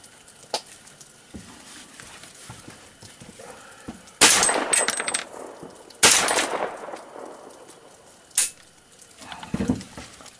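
Three loud, close rifle shots from a 300 AAC Blackout ring out a couple of seconds apart at an outdoor shooting range. Fainter pops from other shooters sound in between.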